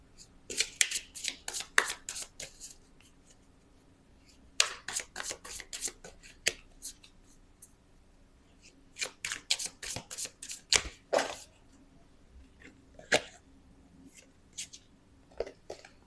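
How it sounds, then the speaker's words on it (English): Playing cards are shuffled in quick riffling bursts, several rounds separated by short pauses, close and fairly quiet. "I'll give one more shuffle."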